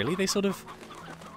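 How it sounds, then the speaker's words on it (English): Chickens from the Slime Rancher video game cluck in a quick burst of short, close calls, followed by faint game ambience; a voice speaks briefly underneath. "You just dump a load of chickens in here"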